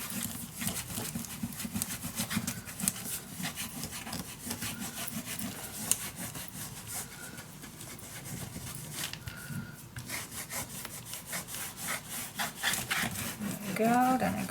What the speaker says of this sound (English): So let me first burnish this one down.